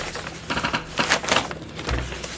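Rapid keyboard typing with uneven bursts of small clicks, fairly close, heard alone in a quiet room with a low hum underneath.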